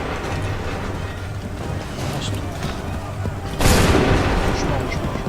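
A musket volley from massed soldiers in Assassin's Creed III Remastered bursts out as a sudden loud crackling blast over steady battle rumble and background noise.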